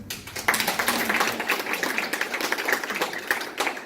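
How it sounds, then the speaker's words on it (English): Applause from an event audience at a talent dialogue gathering, a dense, steady patter of many hands clapping throughout at moderate level. "So a round of applause for"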